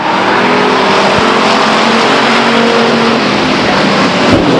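Race cars roar loudly and continuously around the oval at Stockton 99 Speedway during a 1999 race, a dense, steady engine drone with no pauses.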